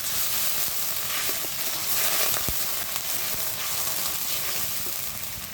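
Onion, garlic and ginger paste frying hard in a pan, a loud continuous sizzle with occasional scraping stirs and light utensil clicks, no voices over it.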